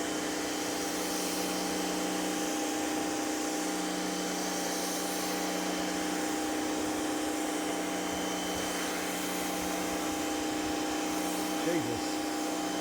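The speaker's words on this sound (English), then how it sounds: "And I'm just going to jet wash along here." Pressure washer jetting grime off the side of a car during a heavy prewash, a steady loud hiss and motor drone running unbroken throughout.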